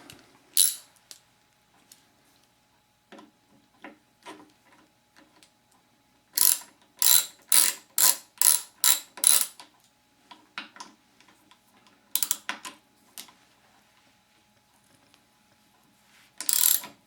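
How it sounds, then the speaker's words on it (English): Clicking ratchet strokes from tightening screws while assembling a 2015 Diamondback Atroz FS mountain bike, heard as scattered single ticks and several fast runs of sharp close clicks in an otherwise quiet room. "I can go ahead and tighten those screws"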